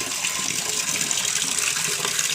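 Water splashes and gushes steadily onto a muddy portico floor, poured out for mopping; a continuous, fairly close wash of liquid noise with no talking.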